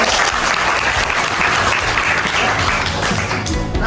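A classroom of students claps together in steady, dense applause, loud and close, sustained throughout without a break.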